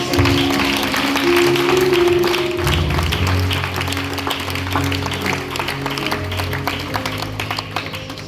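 A church congregation at a healing service in Guadeloupe claps and cheers steadily for several seconds, a dense wash of hands sustained at fairly even loudness, with sustained musical tones and voices running beneath it.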